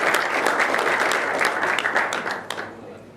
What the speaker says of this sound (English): So I think we need to have a round of applause for the families.